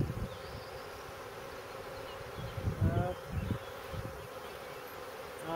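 Steady buzzing of honeybees and drones at an open beehive during a spring inspection, a continuous close hum that swells briefly midway.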